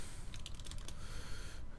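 Quick burst of keystrokes on a French computer keyboard, a cluster of close, crisp clicks over a soft background hiss, then quiet.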